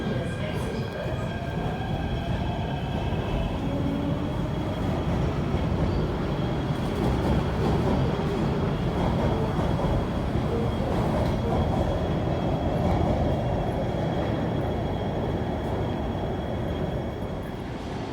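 An MTR metro train pulls into Yau Tong Station in Hong Kong, a loud, steady rumble of wheels and motors filling the platform throughout, with faint high whine tones early on and brief voices in the background.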